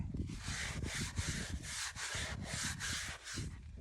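A dirty stone headstone scrubbed hard with a brush, making loud, rhythmic back-and-forth rasping strokes, about eight even passes, close up with no talking.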